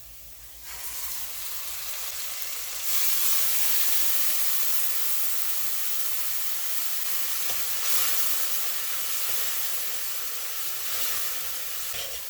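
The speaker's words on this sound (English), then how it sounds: "And you allow this to fry up and cook nicely until it is green" A mixture with garlic and bandhania fries in hot oil, giving a steady, loud sizzling hiss that swells as it is stirred, with occasional scraping of a spoon in the pan.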